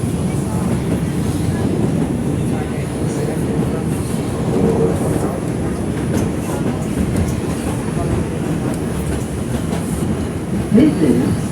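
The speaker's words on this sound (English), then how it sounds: "This is a Manhattan-bound 4 train." Interior of an R142 New York subway 4 train running express in the Bronx, a loud steady roar of wheels and motors with rhythmic clatter and faint squeal throughout, no talking.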